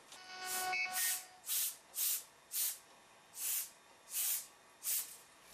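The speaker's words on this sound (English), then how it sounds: "Here's an area right over here that will get a really light type of spray." Short airbrush bursts hiss out one after another while painting feathers, about eight light sprays at a steady, slightly uneven pace, close by with nothing else heard.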